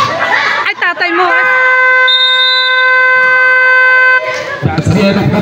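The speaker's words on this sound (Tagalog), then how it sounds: "5 seconds, wait for the buzzer." A basketball end-of-quarter buzzer sounds at a junior division league game, one loud, steady electronic horn held for about three seconds, with crowd noise and commentary before and after it.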